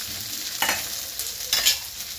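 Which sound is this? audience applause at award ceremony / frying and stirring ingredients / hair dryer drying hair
frying and stirring ingredients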